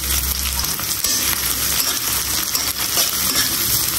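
Dried red chillies, onion, garlic and green chillies fry in a pan with a loud, steady, close sizzle, crackling and spitting throughout without any voices.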